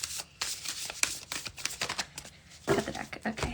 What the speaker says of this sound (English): It's hard to shuffle.